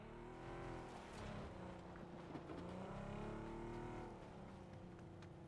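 Car driving in PUBG, a steady engine drone whose pitch climbs and dips as it revs and shifts, moderately near and alone without talk.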